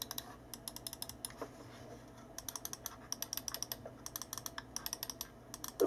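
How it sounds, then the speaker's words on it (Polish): The side buttons of a SteelSeries Sensei RAW gaming mouse click in quick, faint bursts, crisp and close, with short pauses between the clusters. "Wszystkie przyciski myszki wyposażone są w bardzo dobre przełączniki gamingowe"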